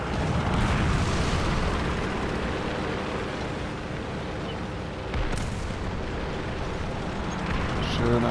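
Tank cannon fire and explosions in the War Thunder video game, heavy rumbling booms inside a dense battle mix, with a sharper blast midway and players talking over it.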